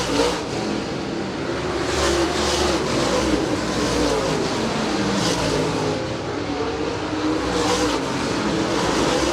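Late model race cars roar around Merritt Speedway in a loud, continuous wall of engine noise, revving steadily and swelling as cars pass close by on the track.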